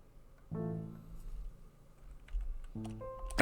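Keys clatter in the video game Grim Fandango, set in Rubacava, with two quick bursts of tapping separated by a quiet stretch, fairly close and heard alone.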